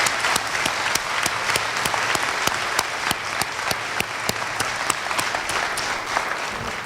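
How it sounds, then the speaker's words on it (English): An audience at the 2014 Newark State of the City address claps for the city administration departments, sustained, even applause from a large crowd with sharp individual claps popping out regularly above the wash. "let's give all of the departments in the Department of Administration a round of applause"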